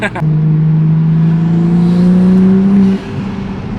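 A Toyota Supra engine revs steadily upward in pitch in comfort mode, loud and close, for about three seconds, then drops off as the throttle eases.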